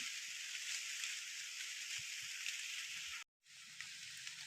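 Light rain falls steadily outdoors in a forest during a mushroom hunt, giving a continuous soft hiss with scattered drops, briefly cut off once near the end and then resuming.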